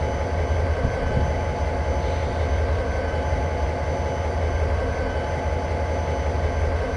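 A freight train in the Train Simulator game coasts toward its final stop on Cajon Pass, a continuous low rumble of rolling wheels and cars at even, moderate level with no talk.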